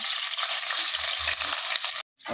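Onion, cinnamon, cloves, green chilies and curry leaves frying in hot oil for a Tamil mutton nalli kuzhambu, a steady close sizzle with light stirring knocks, cutting out abruptly near the end.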